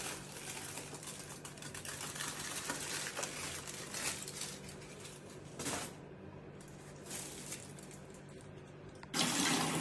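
Water runs steadily from a salon basin tap while bleached hair is rinsed, a close continuous splashing rush with small shifts in flow and a louder gush near the end.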